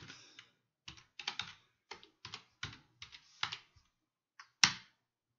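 Keys clatter on a computer keyboard while a command is typed, in short quiet bursts of clicks with pauses between them and one sharper final keystroke, close and alone.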